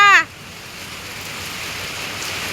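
Heavy rain pours down steadily as a broad, even hiss that holds alone, following a brief burst of voice at the very start.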